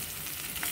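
Chopped onion sautés in a frying pan, a brief, soft, continuous sizzle with a light stirring rustle near the end, faint and alone.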